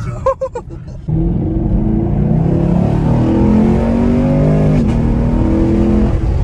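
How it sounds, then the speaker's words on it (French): A stage 1 tuned car engine revs hard under throttle, a loud sustained roar with rising and falling pitch that starts after a second of brief sound and holds steady close by. "tu donnes un coup de gaz, t'es la tête dans le truc"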